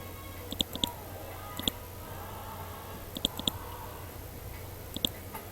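Computer mouse clicks while selecting in ProtaStructure steel design software: sharp, quiet clicks, mostly in pairs and small clusters, spread unevenly over a faint steady hum with no talking.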